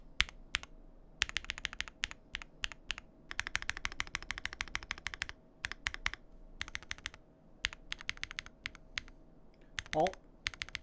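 Rapid keystrokes on a custom mechanical keyboard with PE, case and PCB foam, long-pole Zaku switches and a polycarbonate plate, giving bursts of close, muted thocky clacks with short pauses and a brief vocal sound near the end.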